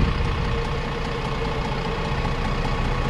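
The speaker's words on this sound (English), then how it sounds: "You have a Cummins 6-litre engine in this vehicle, driven for a ZF EcoLife gearbox" A Cummins 6-litre diesel engine in an Anadolu Isuzu Visigo bus runs with a steady, loud low rumble and no talk.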